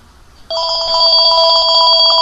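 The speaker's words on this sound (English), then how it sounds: "Phone call." A telephone bursts into a loud, continuous electronic ring after a brief quiet moment, its bright trilling tone holding steady and close with no voices.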